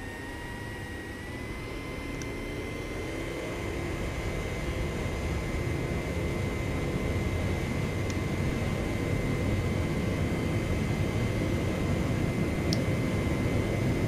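An aircraft taking off in a flight simulator game, with a steady, loud engine roar and rushing wind that builds slightly and holds as a continuous drone, with faint tonal whines above it and no talking.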